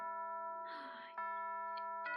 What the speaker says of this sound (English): There's the bell! Class is over.